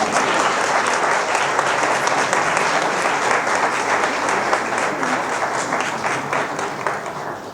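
Congregation applause at a Sunday church worship service, dense and steady clapping filling the room throughout, tapering slightly at the end.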